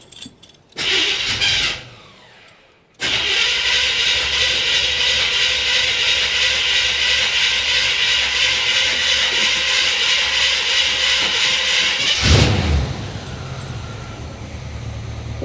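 A modified Chevrolet Suburban SUV engine cranks, catches briefly, cuts out, then fires up and settles into a loud, steady idle close by, with a sharp surge near the end before it continues running.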